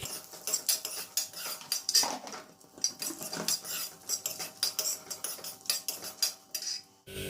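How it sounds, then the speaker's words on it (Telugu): Fifteen dried red chillies, broken into pieces, roast in a pan, with a busy run of metallic clatters and scrapes from stirring against the pan and no one talking. "ఇది ప్యాన్లో ఒక 15 ఎండుమిర్చి ఇలా ముక్కలుగా చేసుకుని వేయించుకోవాలి."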